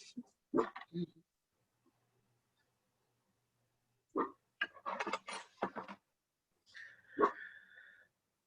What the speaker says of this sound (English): Please excuse this small dog in the background making noise.